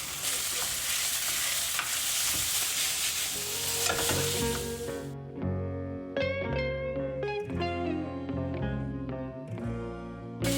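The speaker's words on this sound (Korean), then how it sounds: "자 빨리 불을 켜서 빨리 볶아주세요" Ground meat stir-frying for mapo tofu in a hot pan, a loud continuous sizzle close by that cuts off midway, followed by music.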